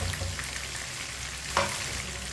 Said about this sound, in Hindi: लहसुन को भी 1 मिनट के लिए मैंने पका लिया।